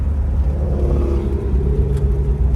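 A commercial go-kart engine runs after carburetor work, giving a steady, close, loud rumbling drone with an even low hum throughout and no voices.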